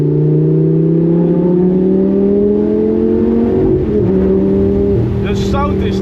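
A Lamborghini Gallardo V10 with a straight-pipe exhaust and 535 horsepower accelerates loud and close, its steady rising drone broken by two quick gear changes before it climbs again.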